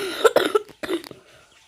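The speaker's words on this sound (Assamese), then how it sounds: "মোৰ কাহ আহিছে" A person coughs in a home kitchen while preparing Assamese pitha, giving a quick cluster of three or four harsh coughs, then one more after a short pause, close and alone.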